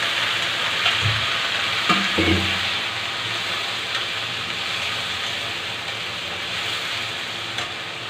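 Potatoes frying in a pan give a steady close hiss and sizzle, with a few soft stirring knocks near the start and no talking.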